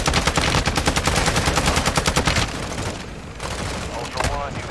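Rapid automatic gunfire from Call of Duty Modern Warfare II DMZ rattles in loud, close bursts, followed by further scattered shots and game effects.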